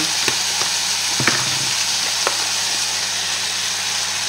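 Sausages and lentils frying in a pan with salt, pepper and bouquet garni, a steady sizzle broken by a few scraping knocks of a spoon stirring, close and alone.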